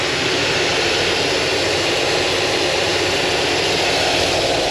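An old OBS Ford truck engine idles steadily, a dense, unbroken roar that stays loud and constant throughout with no voices over it.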